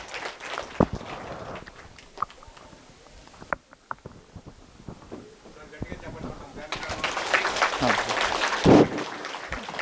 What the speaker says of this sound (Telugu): సో వీరిని గట్టిగా చప్పట్లతో వేదిక మీదకి ఆహ్వానిద్దాము.